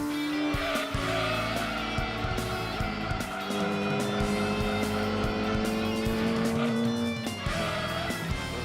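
A race car laps a track in the Gran Turismo 2 video game, its engine pitch rising and falling through gear changes with brief tire squeals, loud and continuous, with no talk.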